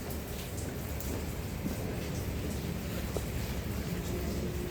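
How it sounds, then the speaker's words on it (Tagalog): Steady rain falls around an elevated stainless steel water tank, a dense, even hiss of drops filling the whole scene without pause and with no voices. "So medyo maulan ngayon, no?"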